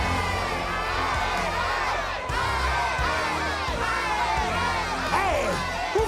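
A large crowd in Beyblade arena stands cheers and shouts, dense overlapping yells and whoops continuing throughout the clip at high volume, with brief dips and a rising shout near the end.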